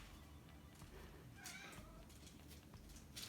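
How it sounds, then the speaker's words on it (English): A house cat meows faintly a couple of times in a quiet kitchen while chocolate bark is being made, the calls soft and distant over a low background hiss. "And that's my cat Winston meowing for us all."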